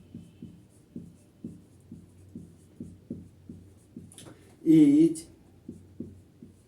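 Pen strokes scratch rhythmically on paper, a steady run of soft close taps and scrapes while a chemistry definition is written out, briefly interrupted by a spoken word.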